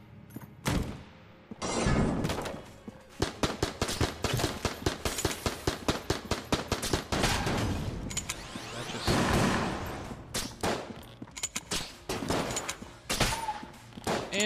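Rapid, continuous gunfire from a character's infinite-ammo base weapon in the video game Enter the Gungeon: dense bursts of loud shots with brief pauses, running through the whole stretch.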